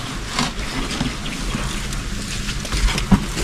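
Water flowing and trickling outdoors, a continuous broadband rush with small splashes and a brief knock near the end, at moderate loudness with no talk.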